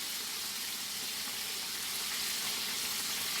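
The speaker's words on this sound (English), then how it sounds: "So now I'm just going to give it a quick nice little stir." Chicken frying in oil in a pot for BBQ fried chicken, a constant, dense hiss of sizzling that stays even and close throughout, with no talking.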